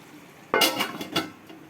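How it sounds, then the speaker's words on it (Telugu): A metal lid set down on a cooking pot of curry gives a sharp clank followed by a few lighter rattles and clinks as it settles, close by in a home kitchen. "ఒక్క 5 నిమిషాలు మూత పెట్టుకుందాం"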